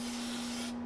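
Spray painting a crankbait fishing lure with an airbrush, a continuous close hiss with a steady tonal whine beneath it that cuts off abruptly near the end.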